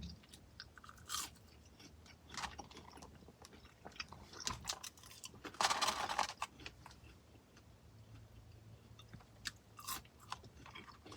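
Someone bites and chews a McDonald's Big Arch burger and fries, close and quiet, with soft crunches and wet mastication coming in irregular bursts and no talking.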